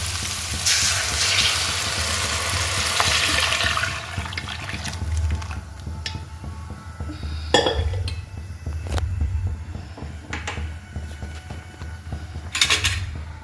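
Dal and sambar simmer in a pot on a home kitchen stove, giving a steady watery hiss and bubbling with a few sharp utensil clinks near the middle and end.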